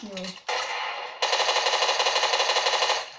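Rapid automatic gunfire in the video game Fortnite, a steady stream of closely spaced loud shots that starts and stops in two bursts after a short opening sound.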